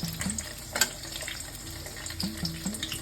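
Cumin, bay leaf and dried chillies frying in hot oil in a pan, a steady close sizzle with a few soft clinks and stirring knocks, no talk.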